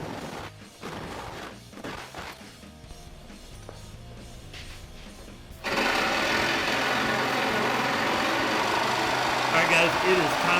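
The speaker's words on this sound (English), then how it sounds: "it is time to break out the Sawzall and make some room here in the fenders" Sawzall reciprocating saw cutting into the fenders of a kart build, a loud, dense buzzing rasp that starts abruptly partway through and runs steadily to the end, following quieter clanking and shop noise.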